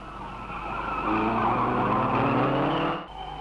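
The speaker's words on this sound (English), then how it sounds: "On lap 2, it's still Ashdown and the official Team Lotus" Vintage racing cars lap Mallory Park circuit, an engine note rising and sweeping past with a tyre-skid squeal, loud and close for a few seconds before dropping away.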